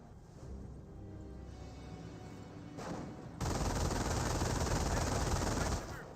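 Sustained MG42 machine-gun fire in the WWII strategy game Company of Heroes, a dense rattling burst that grows louder and fuller midway before cutting off, over quieter battle ambience.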